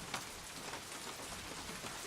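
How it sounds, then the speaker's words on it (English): Rain taps and patters on an empty house in a steady, close, even shower of drops with a few slightly sharper hits and no voices. "the rain tapped on the empty house"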